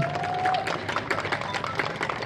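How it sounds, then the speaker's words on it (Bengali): Audience at a Bengali film music launch breaks into applause for director Srijit Mukherji, a dense wash of clapping lasting a couple of seconds, with crowd murmur mixed in. "সামনে বসে আছে সৃজিতার জন্য একটা জোরে হাততালি"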